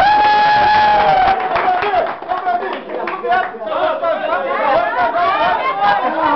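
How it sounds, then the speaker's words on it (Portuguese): An audience applauding for Roberta at a live comedy show, with dense, loud clapping mixed with crowd chatter and cheering that dips in the middle and then swells again. "Gente, uma salva de palmas para Roberta e um Batuta."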